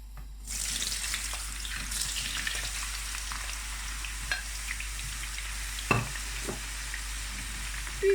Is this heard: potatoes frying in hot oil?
yes